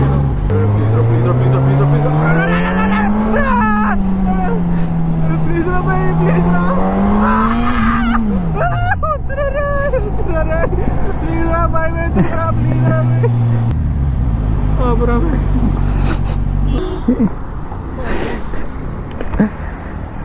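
A Suzuki GSX-S 1000 superbike engine roars loud and close, its pitch climbing and falling as the rider accelerates and shifts gears, then settling to a lower drone, with voices talking over it.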